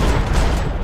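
Dense, loud gunfire burst from a video game shooter, a continuous wall of rapid shots and impacts filling the whole moment with no clear gaps, consistent with landing headshots in combat.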